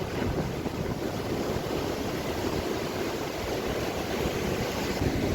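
Atlantic Ocean surf along the shore at Oualidia, Morocco, a continuous broad wash of waves mixed with wind buffeting the microphone, steady and fairly loud with no talking.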